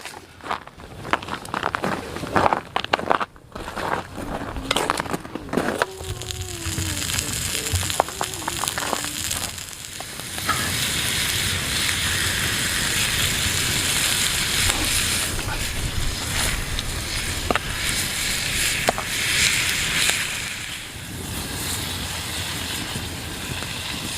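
Vegetables for fajitas frying in oil in a pan, a loud continuous hiss and crackle that builds after some clattering and handling noises and holds steady close up.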